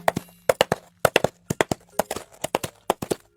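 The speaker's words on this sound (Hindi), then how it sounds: "क्योंकि असल में ये तो नारियल के छिलके की आवाज है" Coconut shell halves knocked together as foley horse hoofbeats, a dry, hollow clip-clop in quick paired strikes repeating steadily and up close, with nothing else behind it.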